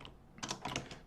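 Typing on a computer keyboard, a quick cluster of soft close key clicks lasting about a second under a faint hum.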